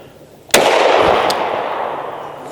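A single sharp 9mm pistol shot from an AREX handgun with a 5-inch barrel, loud and close, cracking suddenly and leaving a long reverberant tail that slowly fades.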